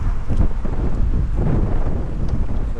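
Strong wind blowing in Sydney, buffeting the microphone with a continuous low rumbling roar and gusty surges throughout, with no voices.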